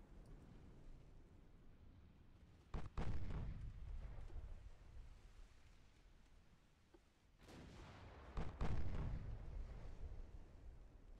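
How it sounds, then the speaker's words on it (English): Naval gun salvos in the Ultimate Admiral Dreadnoughts warship game, two heavy booming volleys a few seconds apart, each a sharp blast followed by a rumbling decay over low background noise. "This is the last salvo from the triple."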